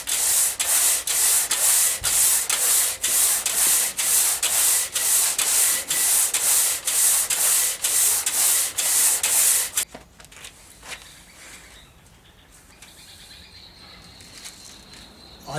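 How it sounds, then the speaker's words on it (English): Wooden guitar fretboard sanded by hand, a loud rhythmic rasp of back-and-forth strokes for about ten seconds, then quieter faint rubbing and handling. "I've been sanding this"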